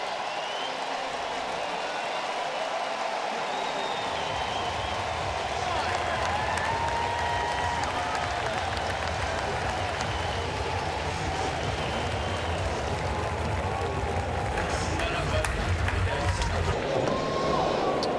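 Large baseball crowd at Chase Field applauds and cheers steadily as the departing pitcher leaves the mound, a broad sustained roar of clapping throughout, swelling slightly near the end.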